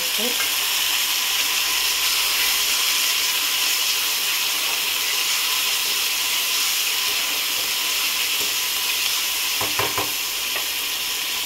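Ginger garlic paste sizzling loudly in hot oil in a pan for a village-style prawn curry, a steady close frying hiss throughout with a few brief stirring clinks near the end.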